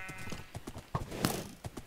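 A horse gallops through trees in Minecraft, its hooves clip-clopping in quick irregular beats with a sharper thud midway, fairly close and at moderate volume.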